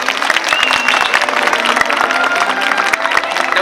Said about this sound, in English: let's give Orkid a nice big round of applause